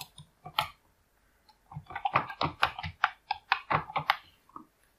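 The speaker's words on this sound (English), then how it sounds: "Hit your password" A password being typed on a computer keyboard while setting up a Shopify store: a few quiet clicks, a short pause, then a quick dense burst of keystrokes close by.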